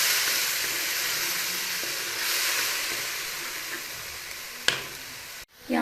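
Ground red chilli, cumin and spice masala sizzle and hiss steadily in a frying pan while being stirred for a brinjal dish, with a few soft scrapes and a brief clatter near the end.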